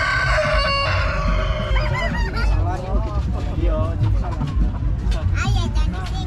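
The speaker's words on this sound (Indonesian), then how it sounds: "Oh, ayam bekokok sini." Rooster on an urban farm plantation in Padang, West Sumatra, crowing close and loud amid clucking and honking fowl, with people talking over the birds throughout.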